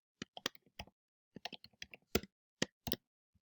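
Close, crisp keystrokes typing on a computer keyboard in short irregular bursts with brief pauses, in a quiet room.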